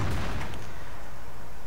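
A tank cannon fires in World of Tanks, a single heavy boom from a Maus with a deep low thump that decays quickly.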